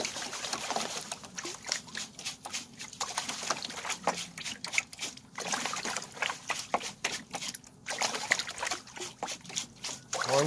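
A gold pan is shaken and bumped in water, giving rhythmic bursts of sloshing and trickling in quick repeated pulses, close up and fairly quiet.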